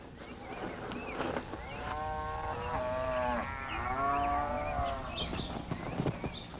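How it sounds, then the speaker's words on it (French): Cows moo in long, drawn-out calls while grazing and wandering in one of the forests of Vrindavan, the lowing layered over a steady outdoor hum, with a few faint hoof clops near the start and end. "Chaque jour, les vaches paissent et se promènent paisiblement dans une des 12 forêts de Vrindavan."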